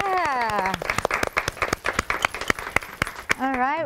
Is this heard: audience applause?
yes